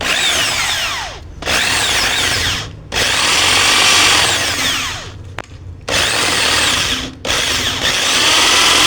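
A power drill bores into a twin tub washing machine that has a defective timer and motor, in loud sustained bursts broken by short pauses, about five runs in a row close to the recorder.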